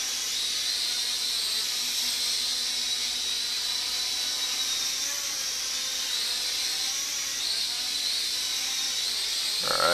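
A Mould King Super-F micro drone with gear-driven propellers hovers nearby, giving a steady, bright high-pitched whine that holds at an even level without pause.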